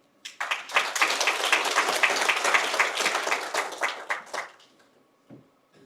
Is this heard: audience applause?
yes